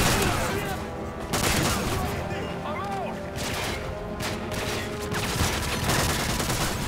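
Rapid bursts of automatic gunfire and explosions in a Modern Warfare 3 Special Ops match, dense overlapping shots at close range with voices talking over the action.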